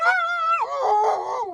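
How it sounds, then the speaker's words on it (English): A storybook dog lets out a loud, close, wavering howl that slides downward, sustained alone for about a second and a half with no talk. "dog howled"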